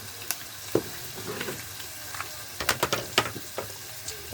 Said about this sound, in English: What I want to do is get a little bit of caramelization on the onions